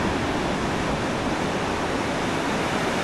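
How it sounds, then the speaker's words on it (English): Heavy ocean surf at high tide on a stormy beach during a gale, a continuous loud broadband roar of breaking swell with no pauses and no voices. "This is the swell they were talking about."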